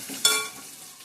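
A spoon stirs vegetable masala frying in a pan on low gas, with one sharp scrape followed by a fading sizzle.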